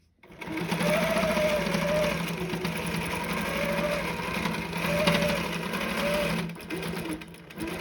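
Sewing machine running continuously while stitching a denim Dresden quilt block, a close, steady mechanical hum and rapid needle chatter that eases off briefly near the end.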